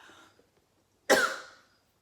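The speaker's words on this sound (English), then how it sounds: "Okay, I'm coughing here." One sharp, loud cough bursts out close to the mic after a quiet moment, then fades quickly, with no talking over it.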